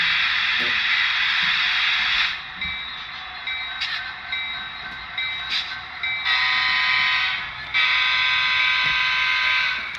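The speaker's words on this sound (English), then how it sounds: "There's the warning bell." A loud, steady electronic ringing tone, like a warning bell from an HO scale model Santa Fe locomotive, pulses on and off, with a brief dip and return partway through.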